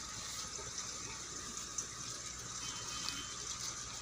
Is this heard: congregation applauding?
no